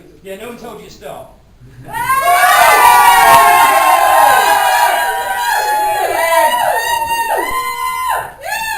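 A loud crowd of children and adults screams and cheers at a live human pincushion and pierced weight-lifting sideshow, a sustained roar with whoops and shrieks rising after a brief quieter start.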